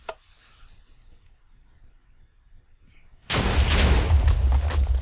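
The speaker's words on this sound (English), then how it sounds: "let's take a look at what the explosion looks like." An explosion in Minecraft, a single sudden loud blast after a quiet stretch broken only by a brief click at the start, followed by a sustained roaring, crackling rumble.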